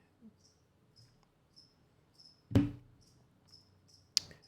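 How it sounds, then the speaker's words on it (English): Feeder crickets kept for geckos chirp in a faint, steady series of short repeated trills in the background of a quiet room, with two sharp louder knocks cutting in nearby. "By the way, those are actual crickets in the background because I have like geckos. So those are feeder crickets."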